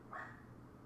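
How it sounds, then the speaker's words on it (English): A single short yip from a dog in the Breathedge video game sounds at a moderate level over a quiet background and fades out quickly. "Dog."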